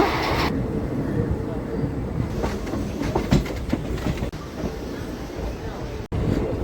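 An HHP DEMU passenger train built in December 2012 rolls along the Nandyal to Kurnool line, a steady interior rumble with rhythmic wheel clatter over rail joints running throughout.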